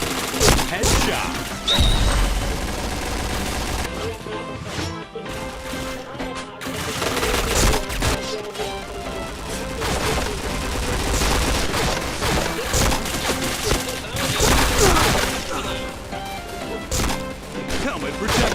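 Rapid bursts of gunfire from the Point Blank shooter game, dense and continuous across the whole stretch with sharp impact cracks, mixed with game music and effects.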